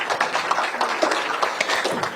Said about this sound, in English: Can I get a round of applause for my panelists?